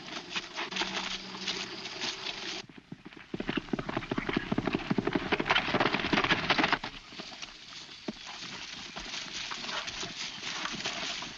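Rhythmic hoofbeats clop steadily over a background hiss, growing denser and louder midway before easing back.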